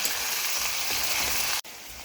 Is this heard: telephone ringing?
no